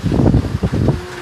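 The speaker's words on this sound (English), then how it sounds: "Ooh, it's windy." Strong hurricane wind buffets the microphone in heavy low rumbling gusts, loud and close, with a brief faint tone near the end.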